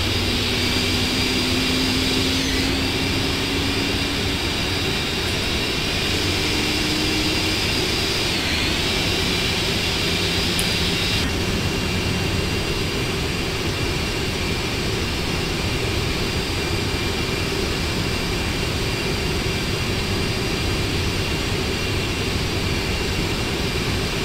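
Jet engines of a Boeing 747 running in the PMDG 747 add-on for the FSX flight simulator after startup, heard from outside as a steady broadband roar with a high whine, constant and loud for the whole stretch.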